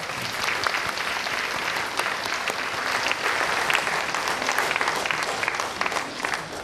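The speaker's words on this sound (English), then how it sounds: "please give them another round of applause" Sustained audience applause fills a hall at a vegan peace event in Chicago after a duo's performance, a dense, steady wash of many hands clapping at even loudness throughout.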